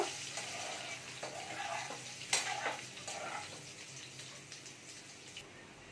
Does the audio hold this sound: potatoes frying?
yes